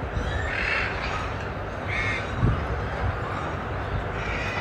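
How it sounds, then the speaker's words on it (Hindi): Harsh squawks from a large parrot ring out a few times over a busy, noisy outdoor background with faint voices. "रेड एंड क्रीम मेकाओ बोलते हैं इसको"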